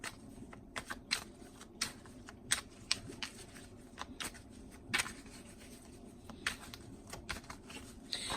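Tarot cards being shuffled by hand, a close run of crisp riffling flicks and soft slides repeating at an irregular pace, with no talking.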